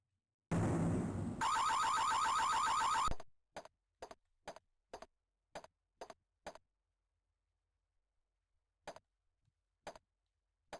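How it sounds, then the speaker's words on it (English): A burglar alarm in the DOS game Tex Murphy: Mean Streets blares as a loud, harsh, buzzing tone for a few seconds, then stops, leaving scattered sharp ticks and clicks in near silence. "As I enter the room, the burglar alarm sounds, and I have about 10 minutes to shut it off before the police get here."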